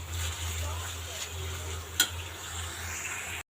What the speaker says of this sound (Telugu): ఈ రెండు ఒకసారి బాగా కలిపేసుకొని టమాటా బాగా మెత్తబడేంత వరకు ఫ్రై చేసుకుందాం